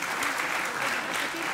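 Steady audience applause at a Torah lecture evening in Nahariya, a dense continuous patter of many hands clapping throughout without a break.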